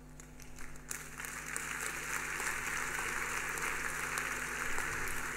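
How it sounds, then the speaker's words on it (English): A church audience claps together at a Mother's Day sermon, a faint, dense patter that starts after a brief quieter moment and holds steady throughout without speech. "I'm watching the hands that are clapping."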